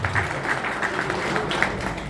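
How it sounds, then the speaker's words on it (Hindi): Audience applause at a Polycab electrician meet and annual award ceremony, a steady, moderately loud wash of clapping from a large crowd lasting throughout. "तो ताली किसके लिए होनी चाहिए?"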